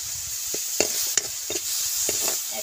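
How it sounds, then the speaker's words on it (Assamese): Star fruit (kordoi tenga) fries in a wok, with a steady sizzle broken by the scrape and clatter of stirring at an uneven rhythm, close and fairly loud, with no talking. "কৰ্দৈ টেঙাখিনি যে ধুনীয়াকৈ এতিয়া ভাজি লৈছোঁ"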